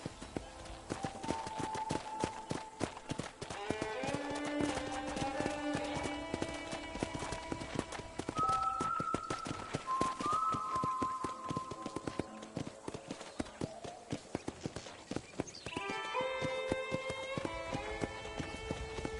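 Horse hooves in the video game Red Dead Redemption, steady rhythmic clip-clop of a riding horse throughout, under soft melodic music with tonal notes drifting above.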